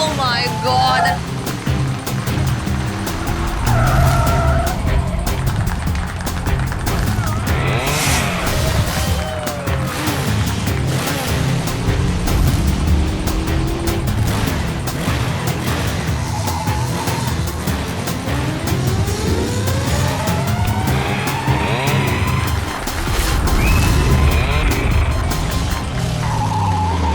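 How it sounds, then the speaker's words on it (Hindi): Motorbike stunt riders at a stunt show, engines revving and tires squealing in long skids, loud and continuous throughout with a voice talking over the noise. "हमारे सुपर बाइकर्स अपने स्टंट्स के साथ ऑलरेडी चालू हो चुके हैं"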